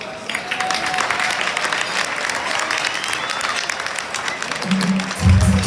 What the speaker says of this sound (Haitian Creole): Je vous demande d'applaudir pour moi ce drapeau, s'il vous plaît.